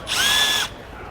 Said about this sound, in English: We're gonna take our bit and we're just gonna go right up in here and drill it out.